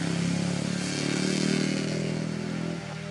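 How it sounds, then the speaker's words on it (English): Motorbikes pass by outside as a steady, loud engine drone and rumble that fills the whole stretch and eases slightly toward the end, with no voices over it. "Wait till the motorbikes go."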